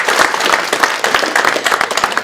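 Brisk applause from a seminar audience at a business training session, dense overlapping claps with a few louder individual hits throughout.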